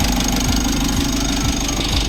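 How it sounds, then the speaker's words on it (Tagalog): A Mitsubishi L300 Euro4 engine idles with its aircon compressor running, a loud steady low rumble with a rhythmic pulsing thump about twice a second, heard up close with no talking. "kung mapapansin natin, bumabomba yung compressor. Kasama siya sa pag-ikot ng makina."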